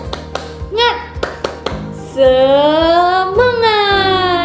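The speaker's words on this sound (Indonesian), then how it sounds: "Tepuk semangat." Children in a primary school lesson clap a rhythmic spirit-clap pattern, a short run of sharp, close claps, followed by a sustained voice calling out loudly.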